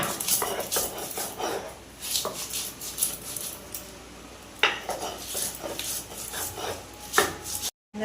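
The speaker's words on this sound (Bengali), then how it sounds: "এখন আমি মশলাটা বেটে দিচ্ছি" Mustard seeds with a little salt being ground into a paste on a grinding stone, heard as close, rhythmic rubbing and scraping strokes with intermittent knocks, no talking.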